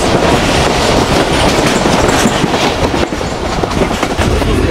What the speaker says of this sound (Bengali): এটা হচ্ছে ট্রেনের ভেতরে